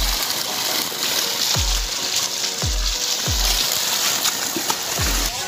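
Water rushes steadily during a water change in a lambari fish tank, a constant hissing flow punctuated by several low thumps at roughly one-second intervals.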